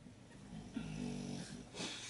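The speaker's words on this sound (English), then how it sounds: "oh, my dog is just snoring." A pet dog snoring indoors, soft and fairly close, with slow raspy breaths rising and falling over a low background hum.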